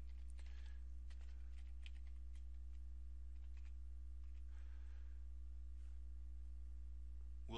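Someone types code on a computer keyboard in Notepad++, with irregular bursts of soft key clicks and brief pauses over a steady low electrical hum.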